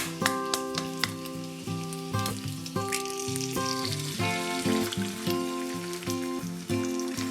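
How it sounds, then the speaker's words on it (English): An egg fries beside pancetta in a pan, giving a steady crackling sizzle under prominent melodic background music, with soft clicks scattered through. "while the other side of the pancetta is cooking, the egg will cook too"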